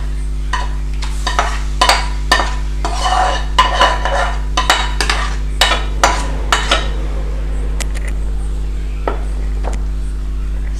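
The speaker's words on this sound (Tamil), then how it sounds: "கிளறி விட்டுக்கலாம்." A spoon scrapes and clinks against a pot as chicken masala gravy with marinated chicken is stirred, a run of irregular taps and scrapes over a steady low hum, close and moderately loud, easing off toward the end.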